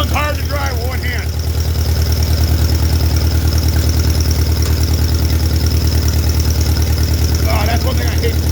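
An old Allis tractor engine idles in a steady, loud, even chugging throb that continues throughout, with someone talking briefly over it near the start and end.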